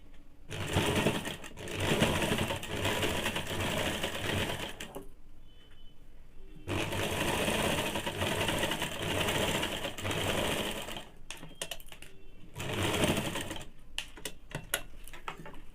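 A sewing machine runs steadily while stitching a Bombay cut blouse, adding a fitting seam along the waist. It whirs in long continuous bursts, close and loud, with a short pause before it starts again.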